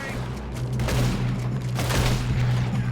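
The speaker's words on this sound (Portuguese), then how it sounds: "Agora eu tiroteio sinistro." Gunfire in the Western game Red Dead Redemption 2, a dense, continuous volley of overlapping shots with deep booms under a steady low hum, loud and close throughout.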